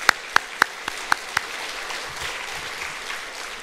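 A church congregation applauds its Hosanna choir after a worship performance: a few sharp, distinct claps ring out first, then blend into a softer, steady spread of clapping across the hall.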